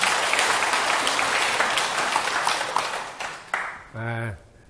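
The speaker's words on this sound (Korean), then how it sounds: "박수 한번 부탁드립니다" An audience bursts into applause at a question session with a Buddhist monk, dense clapping that fills the room for a few seconds, then fades out and ends with a short ringing tone.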